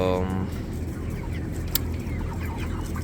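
Broiler chickens at 34 days old cluck and murmur in a controlled-environment shed, a dense continuous chorus of many birds close by over a steady mechanical hum.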